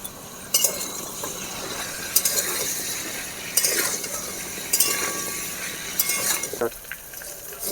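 Cauliflower and potato pieces frying with turmeric in a pan, a soft sizzle under repeated clinks and scrapes of a utensil stirring, about five sharp strikes spread across the stretch.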